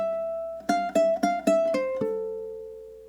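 Ukulele picks out bars 3 and 4 of a Zelda tune: about seven clear plucked notes in a quick, uneven rhythm, the last one left ringing and fading alone.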